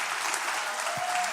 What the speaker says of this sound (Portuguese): Vamos aplaudir a Jesus por esses irmãos.